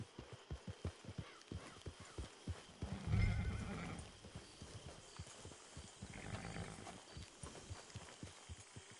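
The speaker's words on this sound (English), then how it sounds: "Get your horse." A horse in Red Dead Redemption 2 trots with rhythmic clip-clopping hooves, then lets out a loud, close whinny, and a second fainter neigh follows as the hoofbeats continue.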